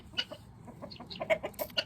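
Several chickens clucking softly at close range in a homestead chicken run, short irregular clucks and chirps over a quiet outdoor background.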